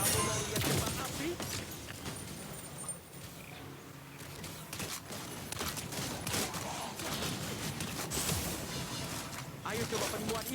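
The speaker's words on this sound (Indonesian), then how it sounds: "Kamu mau lihat kembang api?" Crackling, bursting firework-style skill effects from a Honor of Kings match pop in quick volleys amid game audio, with a character's voice talking over parts of it.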